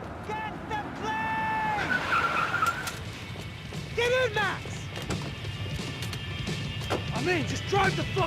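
Car engine, tire skids and crashes in the video game Max Payne 3, with revving tones, sweeping squeals and impacts over a steady game soundtrack, while voices talk over the action.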